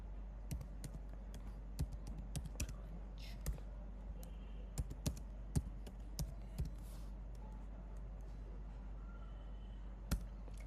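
Keys on a computer keyboard clicking as a git command is typed: sparse, irregular single taps scattered across about ten seconds, faint and close, over a quiet steady hum.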